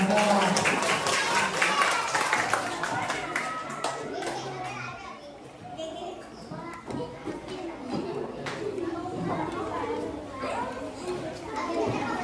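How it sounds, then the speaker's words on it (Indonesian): Elementary schoolchildren clap together during a school outreach session in a classroom, the scattered, uneven applause mixed with lively kids' chatter and voices throughout. "Tepuk tangan dulu dong."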